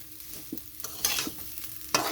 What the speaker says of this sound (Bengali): তো এখানে আমার চালটা ভাজা হয়ে গেছে